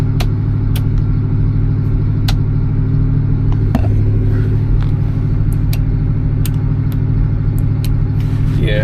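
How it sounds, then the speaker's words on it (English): A 1973 Oldsmobile Delta 88 with a 455 V8 idles close by in a deep, steady rumble with a slight lope, broken only by a few faint clicks and small knocks. "I will say this 455 just sounds good idling for sure"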